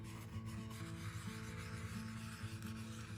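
Soft, steady rubbing strokes pass over a Victorian-style USA flag plaque ornament being aged, a faint continuous rasping brush with no voices.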